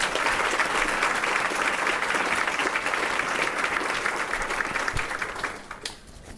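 An audience applauds at an honorees event, with dense sustained clapping that fills the room and then thins out and fades near the end.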